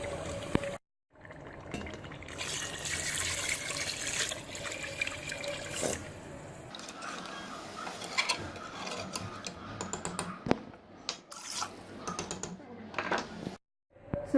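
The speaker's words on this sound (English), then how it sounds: "we're gonna add 4 glasses of water to it to make it a soup" Four glasses of water poured into a pot of cooking goat trotters, a steady splashing pour running for most of the stretch, with clinks of the pot and utensils and brief pauses between pours.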